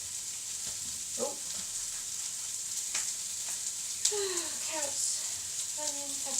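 Onion, pepper and carrots frying in a pan for sweet and sour chicken, a soft steady sizzle with occasional clinks and stirring, while a person talks briefly over it.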